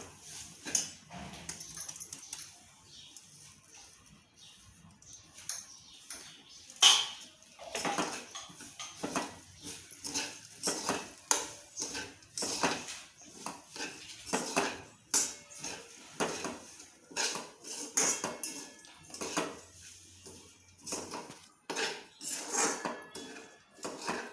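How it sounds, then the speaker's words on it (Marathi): Moong dal is dry-roasted without ghee in a pan, with a long run of repeated scraping and clattering from a spoon stirring against the metal. It sounds close and uneven, and there is no talking. "कोरडीच भाजायची ह्याला काय तूप वगैरे घालायचं नाही आपल्याला आता असंच भाजून घ्यायचं आहे"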